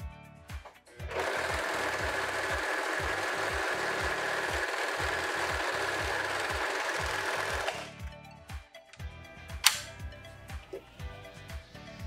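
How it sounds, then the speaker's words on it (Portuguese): A Sun Special SS-320 domestic overlock machine runs a steady, loud test seam on denim for about seven seconds, a continuous whirring buzz, then stops, followed by a few clicks and handling knocks. "agora eu vou costurar o jeans. Antes de mais nada, eu preciso fazer uma costura teste"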